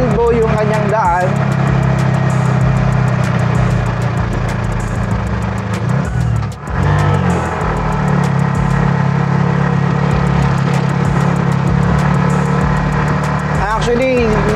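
Bajaj RE auto rickshaw engine running while being driven on an elbow-shaped road, a steady loud mid-pitched motor drone with brief shifts in pitch, heard under someone talking.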